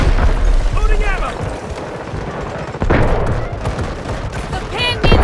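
Explosions and gunfire in the shooter Delta Force during a 24-versus-24 battle: heavy booms and rattling shots pile up into loud, continuous combat noise, with bursts and a sharp blast near the middle.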